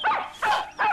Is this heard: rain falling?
no